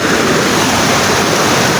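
A loud, steady rush of a rain-swollen river in Gir fills the clip, a continuous broadband roar with no pauses.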